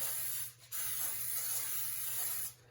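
Cooking spray hisses in one short burst onto a baking pan, pauses briefly, then sprays again in a long steady hiss, close by.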